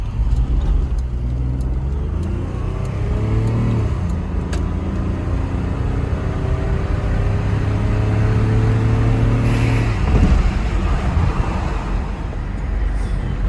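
A 1996 Volvo 960 estate car drives along with a loud, steady engine drone and road rumble inside the cabin, the engine pitch rising through the gears and easing as it shifts.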